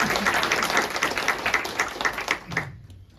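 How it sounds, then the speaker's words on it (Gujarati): An audience at a live event applauds an organizer with loud, sustained clapping that fades out toward the end. "એકવાર એની માટે જોરદાર તાળીઓ થઈ જાય"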